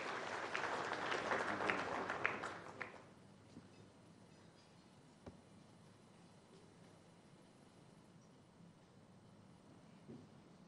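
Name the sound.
audience applause welcoming the Agriculture Minister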